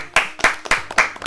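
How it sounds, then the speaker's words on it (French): A few sharp, evenly spaced claps ring out close by, steady and rhythmic, with no voices over them. "On commence à Nantes avec Léo et Antoine, c'est vos applaudissements"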